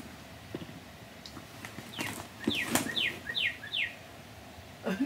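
A few short, bright bird chirps ring out in a quick series, moderately close, amid scattered clicks and rustling handling noise.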